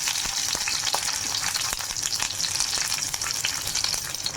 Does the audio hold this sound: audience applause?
no